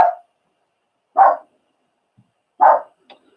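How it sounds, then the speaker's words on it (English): A dog barks three times, single sharp barks spaced about a second apart, fairly close in an otherwise quiet room. "Sorry, that's the dog barking at something."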